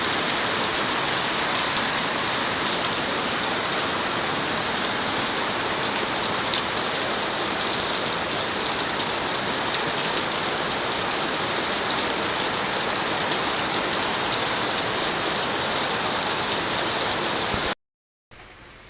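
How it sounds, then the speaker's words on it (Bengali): Steady, heavy rain falls without a break on an evening at home, a dense close hiss that holds at one level until it cuts off just before the end. "সাথে সাথে বৃষ্টি এসে গেছে"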